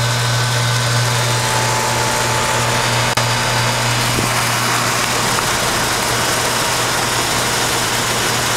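A frozen 2004 Carrier 3-ton heat pump runs outdoors with its coil iced over, giving a loud, steady mechanical hum and fan drone that continues without change.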